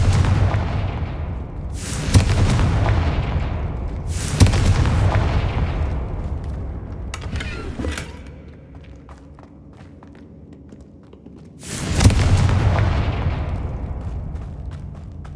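Confringo blasting spells from the Hogwarts Legacy video game go off as three heavy booming explosions, each with a sharp crack and a rumbling decay. Quieter thuds and a short pause fall between them.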